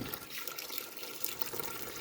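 Water from a tap pours steadily into a cooler to make a block of clear ice, a close, continuous rushing splash heard alone.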